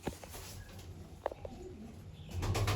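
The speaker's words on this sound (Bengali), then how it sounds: "উড়ে চলে গেল পায়রাগুলো। এই যে চলে আসছে দেখুন" Pigeons coo softly in a loft against a busy, noisy background, with a few brief louder flutters and a rumble rising toward the end.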